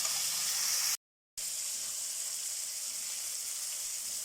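Tomatoes sauté in a pan for a wedding-style sambar, a steady, soft broadband sizzle and hiss that drops out for a brief moment before carrying on evenly, with no talk.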